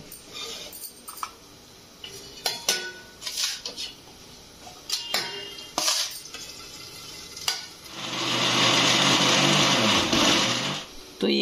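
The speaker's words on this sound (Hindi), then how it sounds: "अब इसे मिक्सी ग्राइंड कर लेंगे" An electric mixer grinder grinds cooled, cooked bathua greens in a home kitchen, where light clatter and handling noises come first and then a loud, steady grinding runs for about three seconds.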